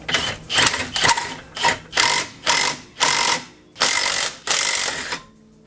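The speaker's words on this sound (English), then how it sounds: "it's going to be a 19 millimeter that we're going to put on our impact to kind of loosen it out" An impact wrench fitted with a 19 mm socket loosening a clutch bolt on a Can-Am X3, firing in about ten short loud rattling bursts with brief gaps, close up and without talk.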